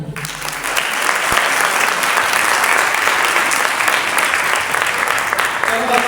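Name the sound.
congregation clapping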